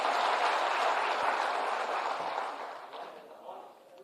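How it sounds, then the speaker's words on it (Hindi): An audience at a live government ceremony claps to welcome a speaker, a broad wash of applause that starts full and gradually fades over a few seconds. "तालियों से स्वागत करें सर।"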